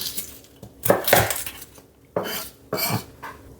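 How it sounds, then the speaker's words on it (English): Garlic being rough chopped with a knife on a board while preparing a Sunday roast, heard as a few loud separate chopping knocks with brief pauses between, close and alone. "Garlic, just rough chop it."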